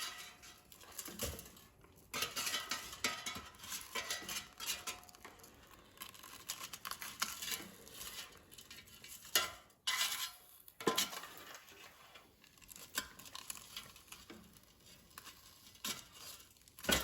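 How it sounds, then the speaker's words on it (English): Breaded pork chops are turned in a metal air fryer basket, with scattered clinks and scrapes of tongs on the basket, a soft sizzle, and intermittent handling noises at close range, no talking. "I'm going to carefully flip the pork chops so they cook evenly"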